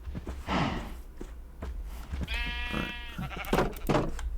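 Sheep bleating in Minecraft, a clear wavering bleat in the middle followed by further short animal calls, with soft shuffling and footstep-like sounds around them.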